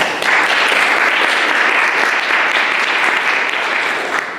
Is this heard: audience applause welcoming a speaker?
yes